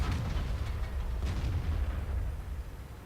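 Tank cannon fire and explosions in World of Tanks, a heavy low rumbling blast that decays across a few seconds with no voices.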